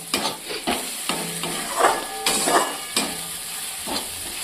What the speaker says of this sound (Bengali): দেখো খুন্তি চালানোর তোড়ঝোড়টা দেখো একবার